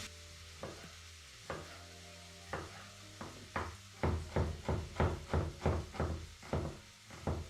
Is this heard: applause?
no